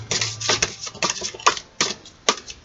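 Large oracle cards are shuffled by hand, giving a series of sharp riffling snaps and flicks in an irregular rhythm, close and fairly loud with no talking.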